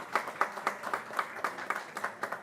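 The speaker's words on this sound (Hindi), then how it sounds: "जोरदार तालियां हो जाएं।" Rhythmic clapping at an award ceremony, evenly spaced claps in a steady beat, fairly faint and slightly distant.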